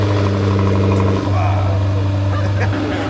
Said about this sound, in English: First start up with the Lamborghini Temerario 4-liter twin-turbo V8.